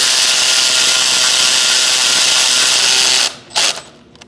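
Power tool whirring steadily while snugging bolts on the knock sensors of a 2008-2014 Mercedes-Benz C300 3.0L V6, loud and close for about three seconds, then cutting off with a couple of short bursts.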